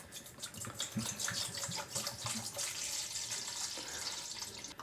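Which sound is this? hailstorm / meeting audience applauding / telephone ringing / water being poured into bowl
water being poured into bowl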